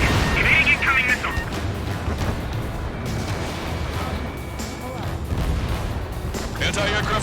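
Explosions tear apart anti-aircraft guns in Ace Combat 7, heavy booms and crashes rolling under jet noise and radio chatter as voices talk over the action.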